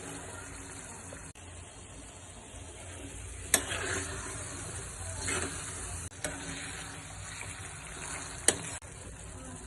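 Chickpeas for chole masala fry in oil with a poppy seed, coconut and cashew paste, giving a soft, continuous sizzle with a few spoon scrapes and clinks as the pan is stirred.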